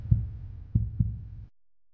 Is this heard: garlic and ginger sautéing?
no